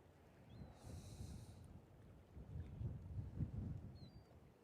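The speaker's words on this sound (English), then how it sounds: "That wind is whooping it." Wind gusts across the bank of upper Sardis Lake in Mississippi during a December fishing trip, a low, rumbling rush against the microphone that rises and falls in waves, with no speech.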